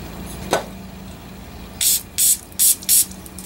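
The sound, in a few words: brake cleaner spray on a Willys Jeep speedometer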